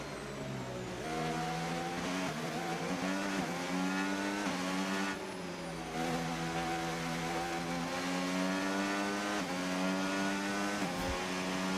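Race car engines in a racing video game drone loudly and continuously, their pitch rising and falling through gear shifts with occasional tyre squeal.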